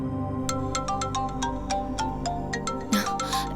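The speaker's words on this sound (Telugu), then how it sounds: "ఏ జేవియర్ ఫోన్ చేస్తున్నాడు." A phone ringtone plays a bright melodic tune over a steady electronic backing, with regular plucked notes, moderately loud.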